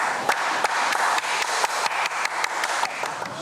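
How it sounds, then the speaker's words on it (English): Slow, spaced hand claps from a small group of people on a beach, each clap a sharp separate smack at a steady unhurried pace, fairly close over a constant wash of background noise. "Should we slow clap them?"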